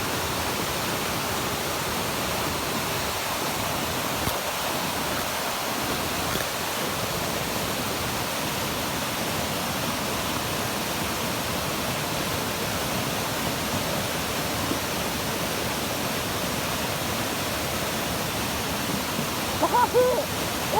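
A stream's strong current rushes in a steady, even roar throughout, a constant close wash of moving water with no clear breaks.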